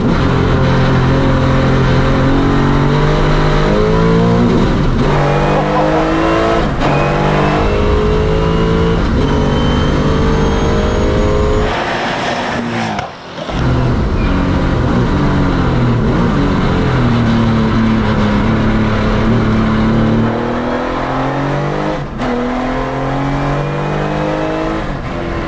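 A Porsche 992 GT3 race car driven hard on a track, its engine loud and close, rising and falling through revs with gear changes and brief lifts.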